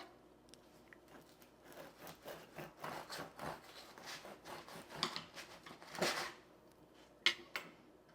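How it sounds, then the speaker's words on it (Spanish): A knife saws through a loaf of crusty rustic bread, making a series of quiet, close, rasping crunches that turn more pronounced toward the end. "Ya nuestro pan ha enfriado, vamos a cortar unas rodajas."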